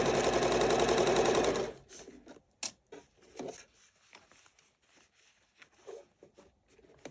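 A sewing machine stitches a welding cap seam in a circle, running in a steady rapid burst that cuts off after about two seconds, followed by scattered soft clicks and fabric handling.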